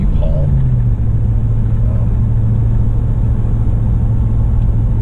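A car hauling a 12-foot U-Haul cargo trailer on Interstate 80 near Grove City, Pennsylvania, giving a steady loud engine drone and road rumble throughout with no pauses.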